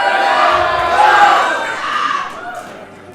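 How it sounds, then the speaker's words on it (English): A large crowd cheers and shouts loudly at a powerlifting championship deadlift attempt in the 120 kg men's class, a sustained roar that gradually fades. "Seeing a lot of people cheering."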